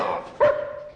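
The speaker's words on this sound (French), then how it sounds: "Oh, saleté de chien" A single short dog bark or yelp rings out, close and fairly loud, after a moment of quiet room sound.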